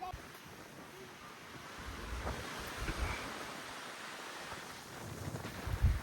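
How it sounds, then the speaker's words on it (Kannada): Strong wind rumbles and gusts across the microphone in a farm field, a low buffeting roar that swells near the end. "ಸಿಕ್ಕಾಪಟ್ಟೆ ಗಾಳಿ ಬೀಸ್ತಾ ಇದೆ"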